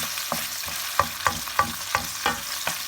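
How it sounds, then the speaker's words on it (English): Onions sautéing in a pan for a Thai red chicken curry, a soft steady sizzle broken by regular scraping knocks of a wooden spoon stirring, close and moderately loud. "we're gonna saute the onions"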